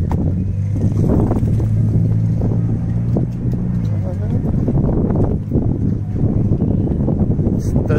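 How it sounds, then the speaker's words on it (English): A four-wheeler ATV spins donuts close by, its engine droning loud and steady throughout, rough with wind buffeting the microphone. "I'm just making donuts in a four-wheeler."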